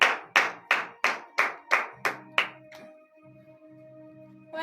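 A church congregation at Friday morning prayer in Comè, Benin, claps seven or eight times in a fast, even rhythm, then the applause stops and sustained keyboard tones carry on alone.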